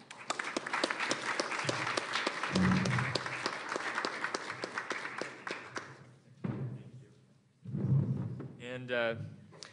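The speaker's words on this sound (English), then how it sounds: "if you'd please join me in another round of applause for our great panelists." Audience applause for panelists at an academic symposium, a brisk round of clapping that fades out after about six seconds, followed by someone speaking.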